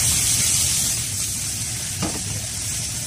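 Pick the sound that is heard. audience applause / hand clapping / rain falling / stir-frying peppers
stir-frying peppers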